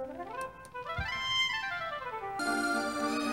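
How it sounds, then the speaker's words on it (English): Oboe sample played from PlayStation-era sound design software, a solo reedy line gliding through several notes before a brighter sustained tone takes over, quiet and alone. "This is the sound of the oboe."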